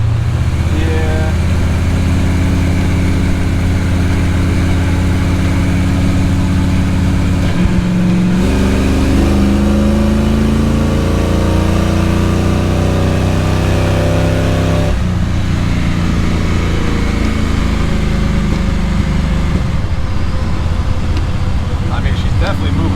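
A 1962 Chevy with a big block engine roars loudly from inside the car, its mid-range drone climbing in pitch through several gear changes as it accelerates steadily. Occupants talk over the engine.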